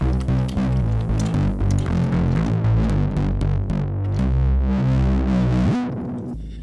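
Keyboard played through a bass effects chain of distortion and overdrive, giving thick, buzzing sustained chords and a steady rhythmic riff throughout, loud and up close with no talking, ending in a downward swoop.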